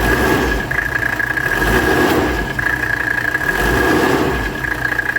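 A 1984 Mercedes 300SD diesel engine runs steadily up close, a continuous mid-pitched idle with a faint whine on top and slight swells in the hum, with no talking over it.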